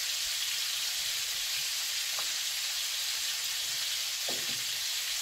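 Constant loud sizzle of country ribs frying in a hot skillet, a steady hiss with a couple of faint clinks, no talking.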